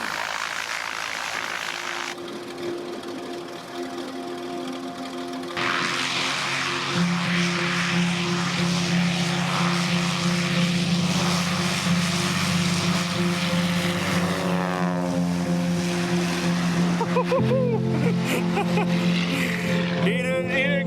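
A small propeller airplane flies low over alder bushes in the Alaskan wilderness, its steady engine drone loud and close, rising in pitch and intensity as it passes overhead.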